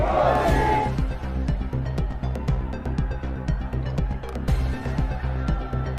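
A large rally crowd chants Modi's name at a Gorakhpur event with the Prime Minister, a dense, loud, continuous roar of many voices with rhythmic shouted accents and drum-like thumps throughout.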